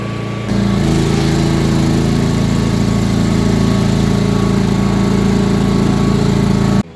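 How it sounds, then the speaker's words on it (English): The stable cleaner in a 91-cow tie stall dairy barn runs with a loud, continuous mechanical drone and rattling hum that starts abruptly and holds steady throughout. "we're just making the stable cleaner go"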